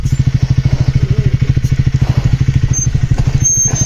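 A motorcycle engine runs on a steep downhill descent at Z-point in Chikmagalur, a close, steady low thumping putter with rapid even pulses throughout and no one speaking.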